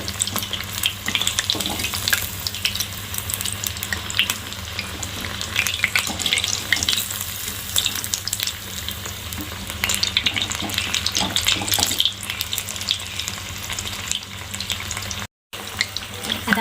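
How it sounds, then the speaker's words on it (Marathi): Cauliflower lollipops deep-frying in hot oil give a steady, dense crackling sizzle throughout, with occasional stirring clinks and scrapes close by and no talking. "चांगले क्रिस्पी होईपर्यंत आपण हे तेलामध्ये फ्राय करून घेणार आहोत तर मध्ये मध्ये आपण चांगला हलवत राहूया"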